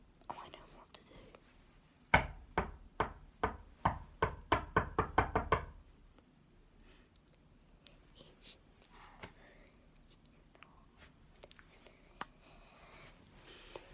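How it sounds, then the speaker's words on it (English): Knuckles rap on a door in a quick run of about a dozen sharp, close knocks lasting a few seconds, then faint rustling and soft whispering in a quiet room. "I wonder what all that knocking was about."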